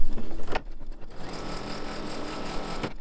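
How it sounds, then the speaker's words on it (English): Embroidery sewing machine tacking down fabric while making an in-the-hoop mug rug, a steady mechanical whir running close and loud through the whole stretch after an opening knock, with no talking. "lower my presser foot to tack this down"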